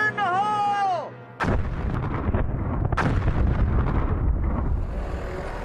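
Small explosive charges blast rock a foot above a fossil bed, a sharp loud crack followed by a second blast and rumbling debris, preceded by a brief tonal whistle.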